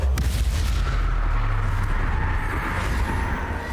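A Bombarda blasting spell going off in Hogwarts Legacy, a loud, dense, rumbling explosive roar that stays heavy and continuous for several seconds before easing slightly.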